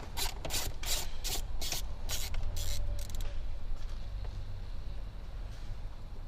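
A 10mm ratchet clicks in quick bursts while loosening screws from a Toyota Hilux dashboard, a run of sharp, close pawl ticks in the first half that fades to quiet rustling.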